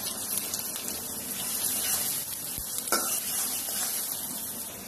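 Onion frying in hot oil in a pan while it is stirred, with a steady close sizzle and scraping stir sounds throughout and no voices.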